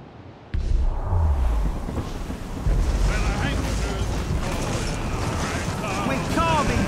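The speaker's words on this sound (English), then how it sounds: "We're carving through the ice." A ship carves through ice in Assassin's Creed Rogue: a loud, rough, continuous rush of hull noise, wind and water, with crunching grinding texture and a voice speaking over it partway through.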